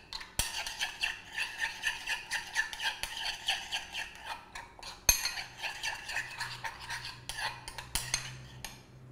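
Yogurt and tandoori paste being mixed in a bowl with a utensil, a quick regular rhythm of scraping, clinking strokes against the bowl's sides, close and moderately quiet, with a few sharper knocks of the spoon and no voices.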